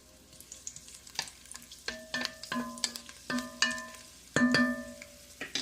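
Garlic cloves dropped into extra virgin olive oil crackle and sizzle in a pan, with repeated stirring scrapes and clinks of the utensil against the pot, close and clear with no talking.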